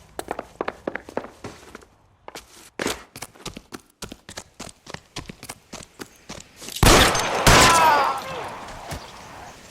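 Gunfire in the video game L.A. Noire: a few sharp, loud gunshot bursts near the end, after a run of quick clattering footstep-like hits, with voices speaking in places.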